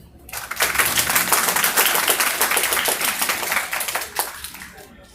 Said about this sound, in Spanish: a quien vamos a dar un caluroso aplauso